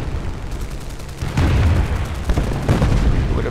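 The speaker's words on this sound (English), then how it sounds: "all the flak from the airbase is going after him" Anti-aircraft flak from an airbase in War Thunder pounds away in rapid, overlapping bursts, loud booms that swell after a quieter start and keep thudding in an irregular barrage.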